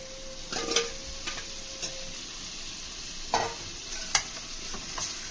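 Small fish being stirred into a frying masala curry, a continuous sizzle under a few soft scrapes and clicks of a spoon against the pan, no talk.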